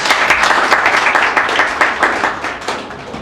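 Close, loud clapping from an open mic audience at a live Hindi poetry performance, a brief burst of quick overlapping claps with sharp individual hits throughout.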